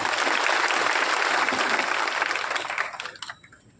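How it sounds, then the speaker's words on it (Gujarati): Applause from a crowd at a political gathering in Gujarat: dense, sustained clapping that holds steady, then thins out and fades over the last second. "ત્યારે એકવાર જોરદાર તાળીઓ પાડી દે."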